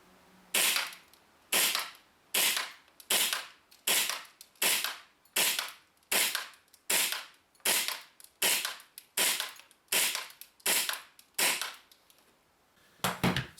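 A Jag Precision JW3 TTI Combat Master airsoft pistol fires about fifteen sharp, snappy shots at a steady rhythm roughly two-thirds of a second apart, close and crisp, with no voices.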